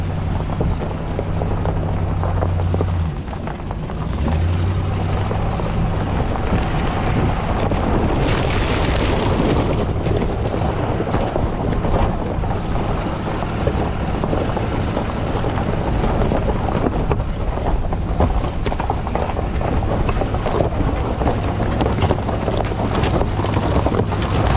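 Range Rover in low range crawling up a steep shell hill off-road, a continuous engine drone under heavy wind buffeting the microphone.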